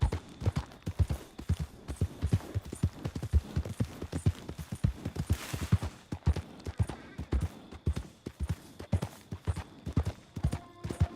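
Horse hooves clip-clop steadily in the Red Dead game, a brisk, even run of close hoofbeats that continues throughout at moderate volume with no voices.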